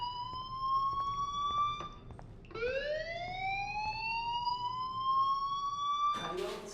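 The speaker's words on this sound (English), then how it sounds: "Hey, do you hear that fire alarm?" A fire alarm in the video game Life is Strange wails as a rising, steady electronic tone that briefly drops out and restarts, sounding continuously through the clip before an abrupt burst of noise at the end.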